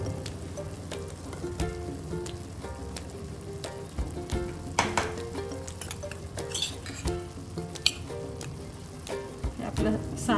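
Spices for chole masala, Kashmiri chili powder and coriander powder, fry in a hot pan with a steady, dense sizzle throughout. Occasional clinks of a spoon against the pan sound over it.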